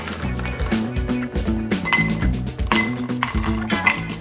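Ice cubes clink and rattle into a serving glass while an iced cocoa coffee drink is made, a quick run of bright, close knocks and chinks.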